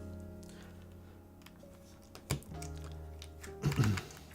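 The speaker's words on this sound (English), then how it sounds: "There are still some amazing keyboards to this day that have some like genuinely really nice tray mount sound signatures." Typing on a WLMOUSE Huan63 mechanical keyboard, sparse soft key clacks with a couple of louder presses near the end, over a low background hum.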